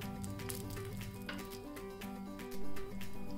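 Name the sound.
urad dal and dry red chillies frying in oil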